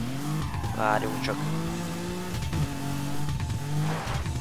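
A car races in the video game Burnout Paradise, its engine revving and shifting with brief tire squeals, loud and close, while someone talks over it.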